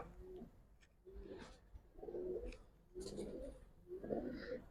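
Old-breed black-necked Giribaz pigeons coo in a slow repeating rhythm, four or five rolling throaty calls close by in a quiet space.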